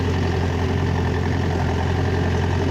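A DT-20 tractor with a sprayer attached runs at about 1350 rpm in second high gear with the 540 PTO engaged, giving a loud, steady, continuous diesel drone with a strong low hum and no speech.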